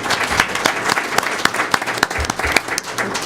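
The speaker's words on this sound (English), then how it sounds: "Let's give them a round of applause." Audience at a Black entrepreneurs roundtable during the Iowa Soul Festival applauds its panelists, a dense, steady burst of clapping from a crowd that carries on for the whole stretch with a few sharper individual claps standing out.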